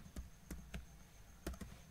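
Typing on a computer keyboard: faint, close key taps in small clusters, a few strokes then a pause, over low background hum.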